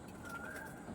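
Pigeons cooing, a low, soft, throaty murmur sounding faintly for about a second with no other sounds.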